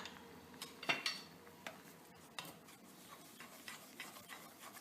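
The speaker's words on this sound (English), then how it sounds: "I'm also going to put in my gochujang now and give it a good mix" A utensil scrapes and clinks against a pot while gochujang is stirred into a simmering spicy Korean dish, with faint irregular knocks and scrapes over a low background hum.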